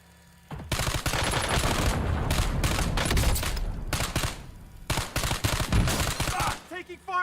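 Heavy gunfire in Call of Duty: Warzone, dense rapid bursts of automatic shots, loud and close, in two main stretches with a short lull between them.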